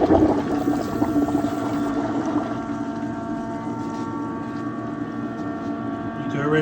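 A flush pump circulates water through a Navien NCB-240 combi boiler heater core, giving a loud, steady mechanical whir and churning hum that holds throughout and swells again at the end.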